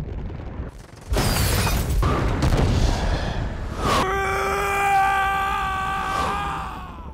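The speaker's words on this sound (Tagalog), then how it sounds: "sa lahat ng kanyang lakas ay sinira niya ang World Engine" Film soundtrack of Superman destroying the World Engine: a loud roaring blast after a brief lull, sustained rumbling, then a swelling tonal drone.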